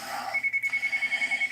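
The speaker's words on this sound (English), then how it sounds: "Sorry about the phone in the background." A telephone rings in the background with a rapid electronic trill in steady repeated pulses, fairly clear but set back in the room.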